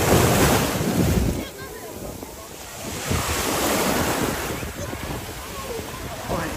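Sea surf washing onto a beach, a steady broadband rush of breaking waves mixed with gusting wind noise on the microphone, swelling and easing across the stretch with faint voices in the background.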